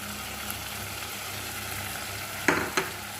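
Ground sesame paste sautés in a pan with a continuous low sizzle and stirring noise, then two sharp scrapes of a utensil against the pan near the end.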